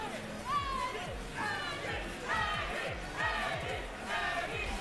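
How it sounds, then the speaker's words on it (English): Spectators at a Tekken fighting game tournament cheer in rhythmic bursts, voices rising in repeated shouted calls over a background crowd, with a commentator talking. "I don't know who's cheering for my man, but damn."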